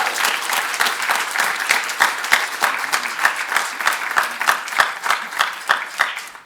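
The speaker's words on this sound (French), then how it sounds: "On peut les applaudir, effectivement." Warm applause from an audience at a French high-school debate competition awards event, a dense, continuous patter of many hands clapping at close range, steady for several seconds without speech.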